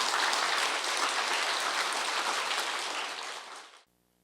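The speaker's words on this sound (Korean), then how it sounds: "그런 의미에서 여러분도 박수 한번 쳐주십시오." Audience applause at a Korean forum panel discussion, a dense, even wash of clapping that holds for several seconds, then fades and stops abruptly.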